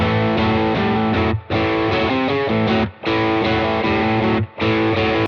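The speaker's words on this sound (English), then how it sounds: "the BB is nice. It's just a kind of cool, nice, usable distortion, pretty warm, not too crazy in terms of the sound." Electric guitar played through a BB distortion pedal in a portable amp-free rig, warm, thick, sustained distorted chords ringing loud and close, with three brief pauses between strums.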